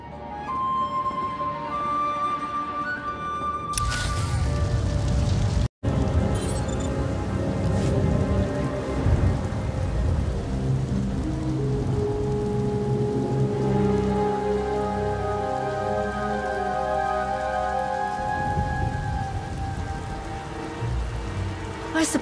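Heavy rain in the SWTOR video game beats down steadily for the whole span, a dense, constant wash with a brief cut early on and no clear thunder.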